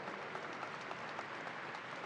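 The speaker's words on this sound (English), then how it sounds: "let's give him a round of applause" A crowd at the New York State Fair claps for a guest being introduced at an outdoor gathering. The even wash of applause is soft and somewhat distant and stays level throughout.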